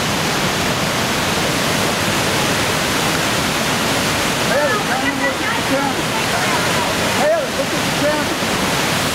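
A mountain waterfall in North Carolina pours as a steady, loud broadband roar of falling water that fills the whole stretch, with faint, indistinct voices surfacing briefly partway through.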